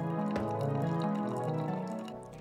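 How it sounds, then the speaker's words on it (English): Boiling water is poured over a pour-over coffee filter to rinse it, making a soft, steady liquid trickle and drip close by, with no talking. "And then you're gonna pull your boiling water in. This is called rinsing the filter."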